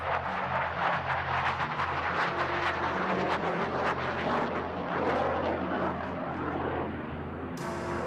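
Fighter jet, an Indian Air Force Sukhoi or Tejas, flying an inverted aerobatic display maneuver, a steady loud roaring engine rumble that holds without pause before easing slightly at the end.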